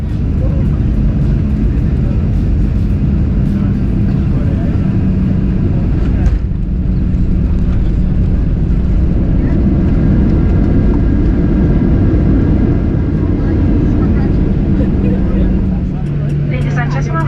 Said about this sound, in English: here's the landing, because I think the Ram pilots did a fairly nice job in that department